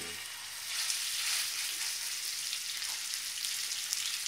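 Pork tenderloin sears in a hot pan over medium-high heat, giving a steady, close, loud sizzle and crackle that swells soon after the meat goes in and holds for the rest of the clip.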